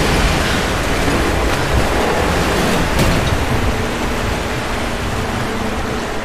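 Rushing water from the Rise of the Tomb Raider video game, a loud, dense, continuous roar of flowing water steady from start to finish with no break.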